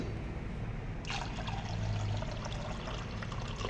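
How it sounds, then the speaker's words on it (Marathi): Water pours into a bowl of moong dal for rinsing, a gentle trickling stream beginning after a second of quiet room hiss and running steadily, close and soft. "ही मूगडाळ आपल्याला स्वच्छ 2-3 पाण्याने धुवून घ्यायची आहे."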